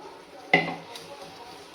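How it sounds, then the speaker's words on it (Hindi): Chopped tomatoes are stirred into sambar masala in a pan, giving a sharp clatter of a utensil against the pan, a brief low scraping stir, then another knock at the end, fairly close with no talking. "अब मैं इसमें मिक्स करूंगा चॉप किए हुए"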